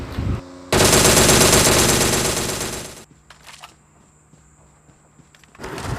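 In a video game, a loud, sustained burst of rapid machine gun fire lasts a couple of seconds, followed by quieter clicks and shuffling, then another sharp shot.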